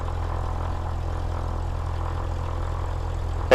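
A Cessna 172 single-engine propeller plane taxiing at Camden Aerodrome, NSW, Australia, gives a steady, close, low engine drone with a throbbing hum, then a sudden louder surge right at the end.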